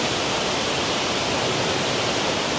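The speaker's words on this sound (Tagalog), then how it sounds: "Ngayon lang ako nakakita ng waterfall na ganito." A waterfall at a farm resort, heard as a loud, dense, continuous roar of falling water that fills the scene evenly from start to end, with no voices.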